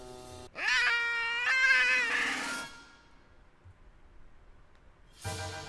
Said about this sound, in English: Oh, you stepped on the cat's tail.